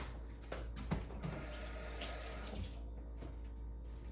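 Steady running water from a kitchen tap as something is washed under it while cooking country chicken dum biryani, faint and continuous with small splashes and clatter, no voices.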